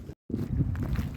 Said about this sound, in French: Je ne sais pas si vous m'entendrez très bien avec le vent